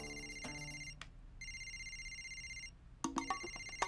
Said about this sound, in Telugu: ఇప్పుడు నా ఫ్రెండ్ కేఎం ఫోన్ చేస్తున్నారు.